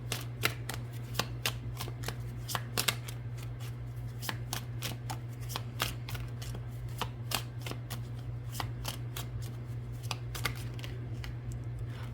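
Tarot cards being shuffled by hand, a steady series of crisp riffling snaps repeating for several seconds, close and clear over a constant low hum.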